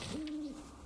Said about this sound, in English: there's just birds everywhere in this zone